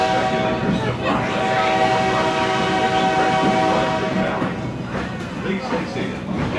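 An Oil Creek & Titusville Railroad passenger train rolls along with a loud, steady rumble and a sustained horn tone held over most of the clip, close and continuous.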